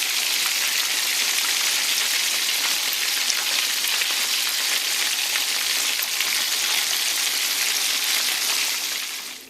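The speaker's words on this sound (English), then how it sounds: "I'm going to continue frying the others" Steady, dense sizzling of chicken frying in hot oil, a continuous crackling hiss with no voices, fading at the very end.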